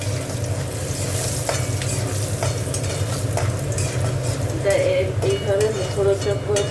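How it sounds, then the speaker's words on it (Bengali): Peanuts frying and being stirred in a kadai (wok), with a steady close sizzle and repeated scraping and clinking strokes of the spatula throughout. "এখানে দেখো কড়াই বাদাম দিয়ে দিচ্ছি, ওটা একটু ভেজে নেবো।"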